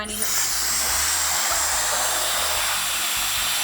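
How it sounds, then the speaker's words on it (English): A Dyson Supersonic hair dryer whirs steadily and loudly with a high-pitched airy hiss, running continuously from start to end. "So we'll start with the Supersonic hairdryer."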